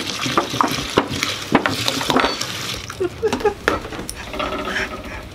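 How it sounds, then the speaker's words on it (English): Milk splashing and pattering into a massive bowl of Fruity Pebbles cereal, an uneven, close pour with clinks and bursts, with some voices murmuring in the background. "it took me 30 seconds to pour the milk in."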